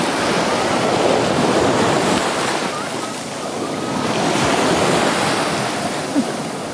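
Waves of the Caspian Sea wash steadily onto a beach in Dagestan, a loud continuous surf roar with gentle swells and some wind buffeting the microphone.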